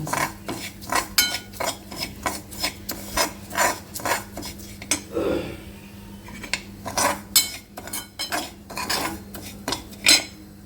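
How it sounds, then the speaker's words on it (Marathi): Semolina (rava) stirred and roasted in oil in a pan with hing for sweet potato upma, a utensil scraping and clinking against the metal in a steady rhythm of repeated strokes, close and clear with a brief pause midway. "हा मिक्स करून घेऊ आणि तेलावरती परतून घेऊ छान"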